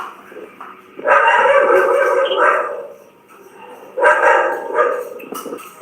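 A dog barks and yips in two loud bursts, the first lasting over a second and the second shorter, separated by a quieter gap.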